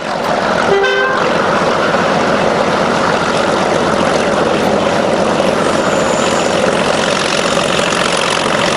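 Class 31 A1A diesel locomotive 31108 working near Oakworth during a gala, a loud, steady engine drone held throughout, with a brief horn toot near the start.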